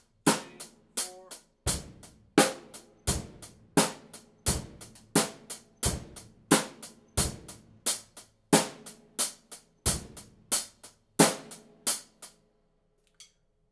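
Drum set playing a slow half-time beat, bass drum and snare strikes alternating in a steady spaced rhythm, crisp and close, ending with a faint final tap.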